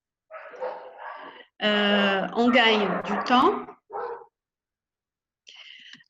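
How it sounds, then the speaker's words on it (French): Dogs next door bark, yip and whine close by in a loud, irregular burst, with a short bark at the end. A person speaks briefly among the barks. "Attends, j'ai des chiens ici à côté."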